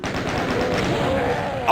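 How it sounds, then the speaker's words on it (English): Gunfire from the classic shooter DOOM on Nintendo Switch, a short loud burst of rapid shots up close, dense and continuous for under two seconds. "I didn't mean to shoot that up close."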